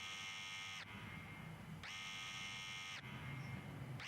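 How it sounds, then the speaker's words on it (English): A house alarm system in a video game buzzes in repeated long electronic bursts, three harsh sustained tones separated by short gaps, loud and alone with no talking. "Why do I have an alarm system in my house like this?"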